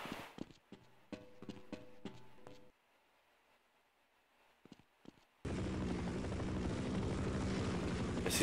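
Half-Life 1 game audio: rhythmic mechanical thumping and clattering bursts give way to near-quiet with scattered knocks, then a loud, steady broadband rotor-like roar starts abruptly and holds to the end.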